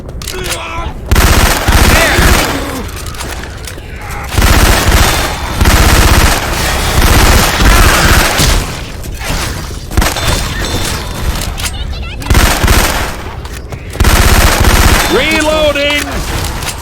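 Bursts of Syphon Filter weapon gunfire inside Left 4 Dead 2, loud rapid automatic fire in long sustained volleys with short gaps, booming thuds, and a brief voice call between bursts.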